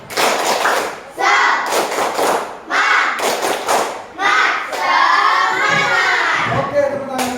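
A classroom of children performs a rhythmic spirit clap, loud bursts of clapping in a patterned beat with pauses between, near and lively, with a teacher's voice at the start.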